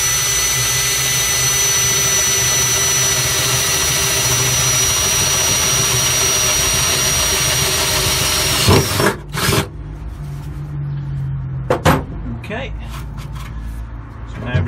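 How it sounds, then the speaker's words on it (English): A 6.5mm drill bores a hole through the floor of an MG Midget racecar build, a loud continuous high whine that runs steadily for several seconds, then cuts off, leaving a few brief bursts and clunks. "now I'm ready to drill the hole in the floor."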